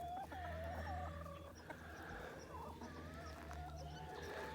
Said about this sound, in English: There's the rest of the flock outside just basking in the sun.